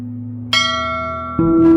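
Two strikes of a temple bell, the second louder, each ringing out with a long metallic sustain and shimmering overtones.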